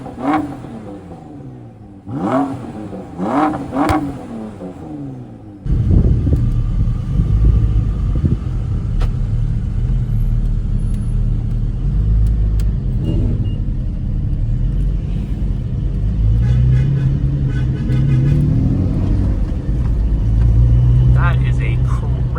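Supercars rolling into the Import Expo Toronto car show, engines rumbling and revving loudly and continuously after a quieter stretch of voices, with people talking throughout.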